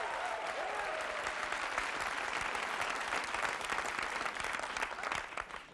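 A crowd cheers and claps in a broad, continuous roar of many hands and voices that swells through the middle and thins slightly toward the end.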